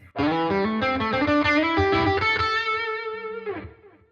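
Distorted electric guitar through an amp simulator's headphone mode with a doubling effect, a thick chorused chord strummed and left ringing for a few seconds before fading out, no voices.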